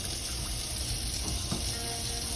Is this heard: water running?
yes